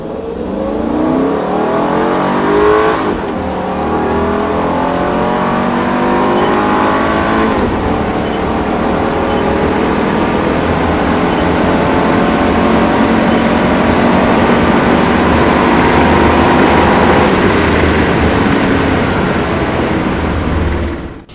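A Mercedes S55 L AMG Kompressor saloon accelerates hard from a standstill to 100 km/h, its supercharged engine roaring loud and close as revs climb steadily through the gears, with no talking.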